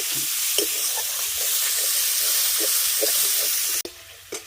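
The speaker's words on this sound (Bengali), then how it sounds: "লঙ্কার গুঁড়ো এবার মশলাটাকে খুব ভালো করে কষিয়ে নেবে" Spice masala with turmeric and chili powder fries in a pan for a koi fish malaikari, a constant close sizzle broken by regular stirring scrapes, ending with a sudden clatter, no voices.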